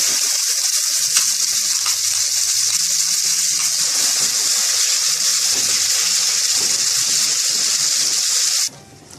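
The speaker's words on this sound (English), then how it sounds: "So now we will add our almond paste to the ghee." Almond paste frying in ghee in a heavy-bottomed pan gives a loud, steady, even sizzle that holds for about nine seconds and then cuts off abruptly.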